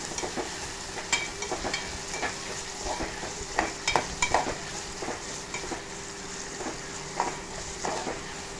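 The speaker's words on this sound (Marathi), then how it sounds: "कांदा लालसर करून घ्यायचा आपल्याला आणि मगच आपण कालवं टाकणार आहोत" Chopped onions fry in a pan for an oyster masala, a steady sizzle running under repeated scraping stir strokes that come at an uneven rhythm, close and moderately loud.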